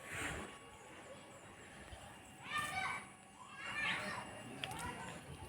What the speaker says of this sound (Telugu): ఇక్కడ పిల్లల శబ్దం వినిపిస్తుంది కదా.